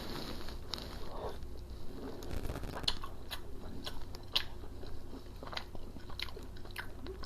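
Fried chicken coated in a garlic and onion sauce is bitten and chewed close up, with irregular moist crunches and smacking mouth sounds spread across several seconds, fairly quiet and with no talk.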